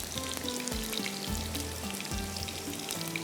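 Onions frying in a pan while cooking Galawati murgh, a steady close sizzle and crackle running throughout with faint low clatters of the pan underneath.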